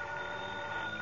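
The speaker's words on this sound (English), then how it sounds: "the phone beside my bed started jangling again." A bedside telephone in a 1958 radio drama rings with a continuous jangling bell tone, steady and fairly loud, alone with no voices.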